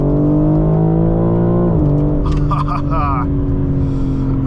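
A 2024 BMW M3 Competition xDrive accelerating hard under throttle, its loud engine note rising steadily in pitch from inside the cabin, with a brief shift dip and a voice speaking over the engine partway through.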